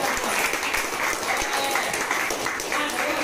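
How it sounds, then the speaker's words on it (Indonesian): Students in a classroom break into steady applause, a dense, even patter of clapping hands that runs throughout, with voices talking over it. "Tepuk tangan terlebih dahulu."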